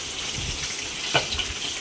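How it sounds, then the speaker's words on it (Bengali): Constant hiss and crackle of fish frying in hot oil, pieces added one at a time, with a few soft clinks and stirring sounds. "আমি এখানে ভেজে নিচ্ছি এক এক করে মাছগুলো"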